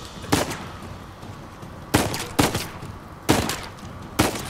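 Gunfire in the Uncharted 4 video game: five sharp broadband shots spaced irregularly, each a loud isolated crack with a short tail, heard alone against a low background.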